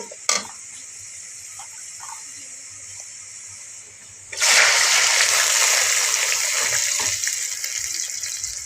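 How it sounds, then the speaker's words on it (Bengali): Water poured into ground spices in a cooking pan for a fish-head and potato curry, a soft trickle at first, then a loud, sustained rushing splash that continues to the end. "এখন আমি পানি দিয়ে এক এক করে সবগুলো মশলা দিলাম"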